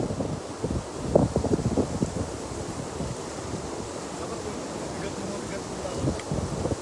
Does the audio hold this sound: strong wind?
yes